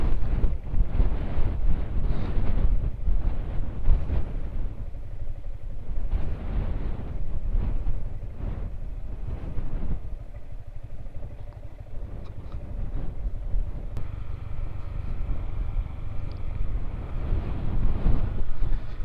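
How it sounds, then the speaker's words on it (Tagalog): Strong wind roars steadily against the microphone, loud and constant, with a rushing, buffeting texture and no voices. "Ang lakas ng hangin."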